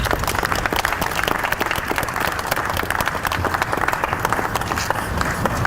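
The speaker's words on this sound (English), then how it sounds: "let's give him another round of applause" An audience at a Ghana flag-raising ceremony in the United States claps steadily for a speaker, a dense, continuous round of applause with no voices on top.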